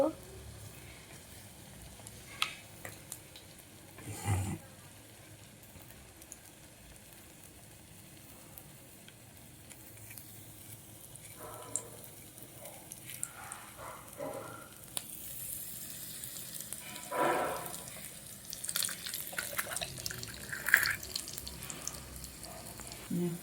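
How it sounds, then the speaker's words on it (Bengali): Spring potato chips fry in hot oil, giving a steady, moderate sizzle with scattered crackles and a few louder pops and clatters. "এবারে আমাদের স্প্রিং পটেটো গুলো ফ্রাই করা হয়ে গেছে"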